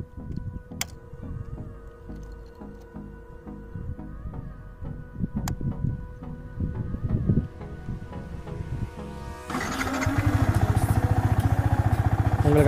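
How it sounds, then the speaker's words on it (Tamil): A Yamaha R15 V3 BS6 motorcycle has mechanical clicks and wind-buffeted handling noise before its engine starts. It then settles into a steady, close, loud idle with a dense, even pulse for the last few seconds. "ஃபஸ்ட்டு வண்டியை ஸ்டார்ட் பண்ணி வண்டியோட சவுண்டு கேட்கலாம்."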